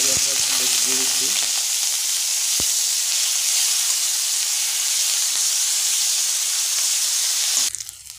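Onion paste hits hot oil with a bay leaf and a cut chili already in the pan, setting off a loud continuous sizzle and hiss, close up, that holds for several seconds before cutting off abruptly.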